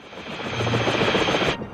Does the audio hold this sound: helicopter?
yes